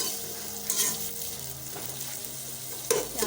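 Onions fry in a pan for daal and are stirred now and then. A constant sizzle is broken by scraping and clinks of a spoon, including a louder knock near the end, with no speech.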